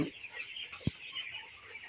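Soft, steady chatter of many broiler chickens clucking on a farm, with a dense high-pitched cheeping wash throughout and one brief low thump near the middle.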